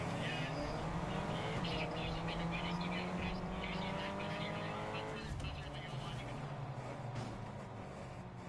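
Race cars roar around the Daytona 500 track in a racing video game, a loud, continuous engine drone with rising and falling pitch sweeps as cars pass, with a voice talking over it.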